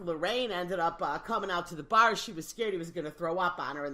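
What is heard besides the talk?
None of the usual background noises is heard.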